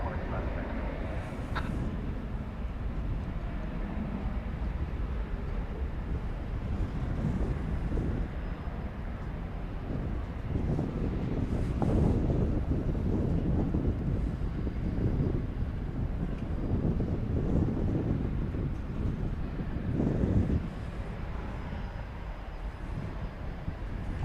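A cargo airplane comes in to land at DFW airport, a low engine roar that swells and rumbles through the middle under gusty wind noise, while people talk over it.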